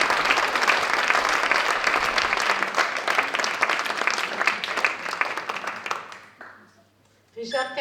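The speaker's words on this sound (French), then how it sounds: "Je vous invite à l'applaudir avec moi." Loud, sustained applause from a large audience fades out toward the end, followed by a brief burst of voice.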